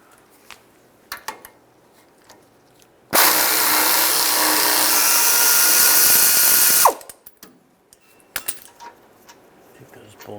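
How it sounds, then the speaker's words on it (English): Caliper bracket bolts on a 2007-2017 Ford Expedition's front brakes being loosened with a 21mm socket, a loud continuous power-tool whir lasting several seconds, framed by scattered clicks and tool handling. "Take the caliper bracket bolts out, use a 21mm socket on these two bolts"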